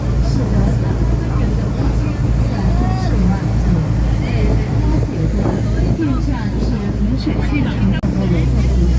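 A tour boat engine drones steadily on the Wujiang River, with wind buffeting the microphone and a constant low rumble of water, loud and continuous throughout.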